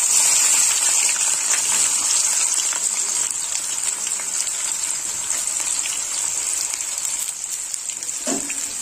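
Chopped onion fries in hot oil with whole garam masala and bay leaf, giving a loud, steady hiss close by that eases slightly over time, with a brief clatter near the end and no talking.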